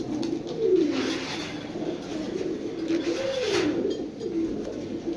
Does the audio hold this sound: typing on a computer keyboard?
no